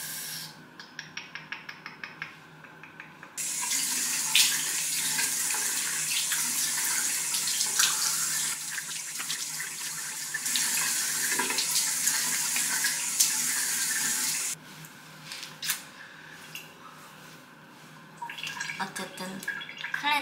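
A bathroom tap runs while someone washes their face: a loud, steady gush of water fills most of the stretch, broken by brief pauses, splashes and dripping at the start and end.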